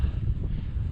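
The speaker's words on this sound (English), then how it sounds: "It's windy." Wind gusts steadily across an exposed, cold mountainside on Mt. Timpanogos, making a constant low rumbling roar against the microphone.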